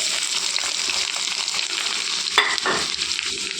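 Onions sizzle in hot oil with tempering spices of chana dal, urad dal, mustard seeds, cumin and dried red chillies for a beetroot fry, a steady close crackle with a brief stirring clatter midway.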